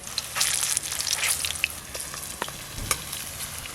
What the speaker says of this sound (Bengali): এইগুলো কিন্তু একটু লাল লাল করে খুব ভালো করে ভাজতে হবে,